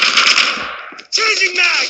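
Shotgun fire in a video game, loud close blasts in quick succession, followed by a harsh burst with a ringing, metallic tail.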